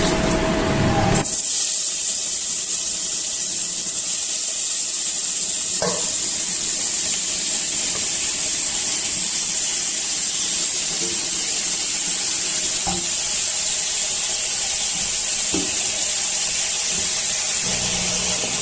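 Soybean chunks for a vegetable soya biryani sizzle loudly in a hot pan, a steady dense hiss that runs unbroken for the whole stretch, with a few faint clinks of a utensil against the pan.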